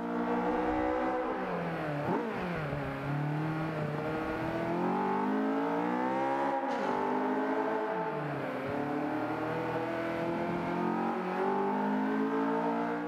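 A Mercedes 190E touring car in Forza Motorsport 5 at Long Beach gives a steady, loud engine drone that rises and falls through gear changes and revs for the whole stretch, with no talk over it.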